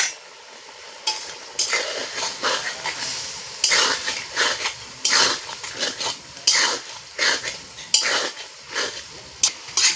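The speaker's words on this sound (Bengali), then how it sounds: "এবারে মশলাটাকে ভালো করে কষ।" Spices such as salt, chili powder, Kashmiri chili and turmeric are stirred and fried in a pan for a rohu fish curry. Close, irregular scraping strokes of a spatula against the pan run over a soft sizzle, with no talking.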